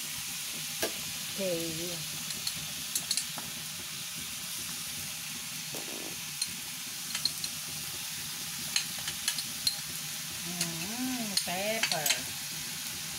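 Garlic and pepper fry with crab in a pan, a soft steady sizzle with clinks and scrapes of stirring, and a short spoken word in the middle.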